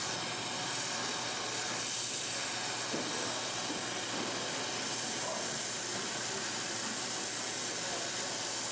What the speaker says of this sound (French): balayez votre flamme entre l'accouplement et le joint